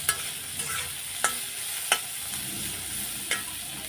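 Onions frying in hot oil in a pan after dried fish, giving a continuous close sizzle broken by several sharp spoon taps and scrapes against the pan; no talking.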